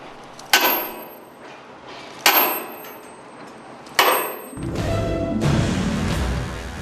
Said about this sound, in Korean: 여기서도 또 망치질이 시작되는데요.